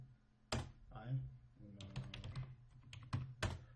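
Keys clack on a computer keyboard as a sudo command is typed into a terminal: a short, uneven burst of close, crisp taps, with a person talking over and between them.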